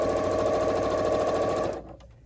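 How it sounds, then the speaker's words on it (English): A sewing machine stitches fabric strips in a loud, fast, even mechanical whir that stops abruptly near the end, leaving quiet. "once you have it secured onto the strips, you can take the pins out and then just sew"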